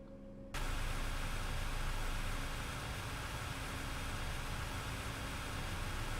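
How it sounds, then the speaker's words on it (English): An Enviro 400 bus engine in OMSI 2 with a ZF gearbox and no speed limiter, faulty and revving constantly: after a brief quiet moment a steady, loud, unbroken engine roar holds at one high pitch. "For some reason this is revving constantly."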